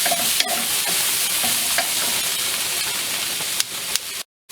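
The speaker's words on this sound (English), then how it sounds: "I'm gonna also add the shrimp so that it gets coated in with the salt and the pepper, and I'm also gonna add the soy sauce to it." Shrimp with salt, pepper and soy sauce are stirred in a hot pan, giving a loud continuous sizzle with scraping stir strokes at irregular intervals, then cutting off abruptly at the end.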